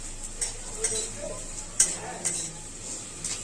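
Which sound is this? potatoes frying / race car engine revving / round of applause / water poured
potatoes frying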